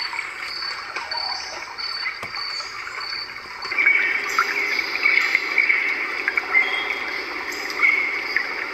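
A white noise sound machine plays a stream-with-birds setting, a steady wash of flowing water with high chirping layered over it that grows slightly louder midway.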